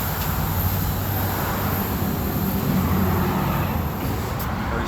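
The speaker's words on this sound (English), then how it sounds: "There's also some suspension noise he didn't complain about and some tire noise." Steady road noise from a 2018 Honda Accord 1.5 turbo on the move, a continuous low rumble of tires and suspension with constant broadband hiss and no talking.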